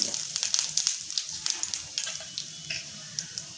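Hot oil crackles and spits as cumin seeds go in, a dense run of sharp pops that gradually thin out.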